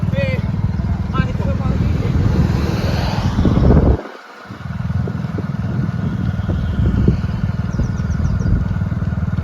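A motorcycle rides slowly alongside a running track during a 1600 m race, its close, steady engine rumble mixed with wind buffeting and briefly cutting out midway, while voices talk over it.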